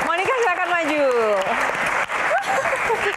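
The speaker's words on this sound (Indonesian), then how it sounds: "Tepuk tangan dulu dong." An audience at a Miss Indonesia pageant question-and-answer session claps steadily while a voice speaks over the applause.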